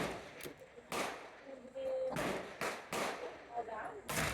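A Pietta 1851 Navy .36 black powder revolver fires round balls at a range, several sharp loud cracks spaced about a second apart, with faint voices in between.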